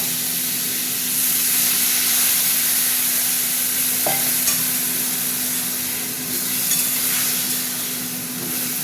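Vegetables for Bengali shukto hiss and sizzle in a hot pan as a little water is poured in, a loud steady frying crackle with stirring scrapes and no talk.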